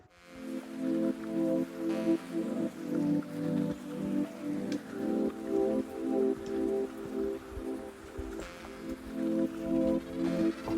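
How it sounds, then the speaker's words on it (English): Light rain patters steadily on a Catskills mountain summit in cool, breezy weather, a dense close hiss of drops with soft gusting underneath and no voices. "Not lingering too long because it's a little rainy and a little breezy."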